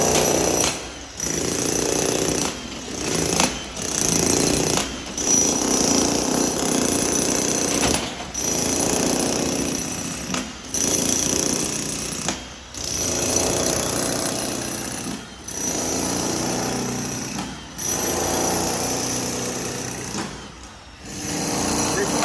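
A Hilti TE 2000-AVR demolition hammer pounds loudly and continuously up close, its rapid hammering broken by brief pauses every couple of seconds.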